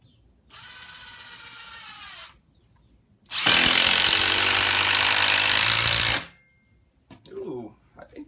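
Milwaukee Fuel brushless impact driver running at full speed, a loud sustained burst of about three seconds following a shorter higher-pitched whine of another tool, with brief talk afterward.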